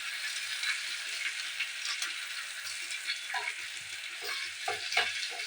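Tempering for drumstick sambar sizzling and crackling in a hot pan, a steady close frying hiss with scattered small pops and spatters throughout.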